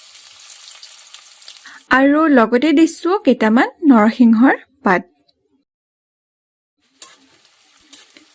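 Chopped onions fry in the hot oil left over from frying soybeans, a bright sizzle at the start and faintly again at the end, while a voice speaks over a silenced middle stretch.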